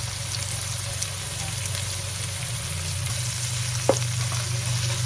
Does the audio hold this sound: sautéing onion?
yes